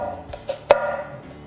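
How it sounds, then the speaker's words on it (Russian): A knife chops an onion into small cubes on a board while a creamy Finnish-style fish soup is being made, giving a few sparse, sharp taps with one louder cut near the middle, no talking. "Лук нарежем"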